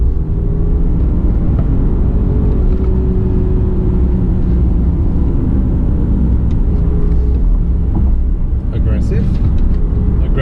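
A 2018 BMW X3 G01 in its aggressive transmission setting accelerates from inside the cabin, a loud, steady low rumble and engine drone with road noise holding throughout.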